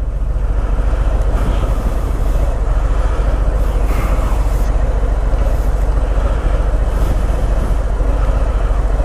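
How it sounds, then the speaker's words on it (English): A steady, loud engine drone with deep low rumble runs throughout, like the exhaust of a 2018 Harley-Davidson Softail Fat Bob 114 cubic inch motorcycle heard while riding, with constant wind-like roar. "Exhaust has to go. I can't handle the sound."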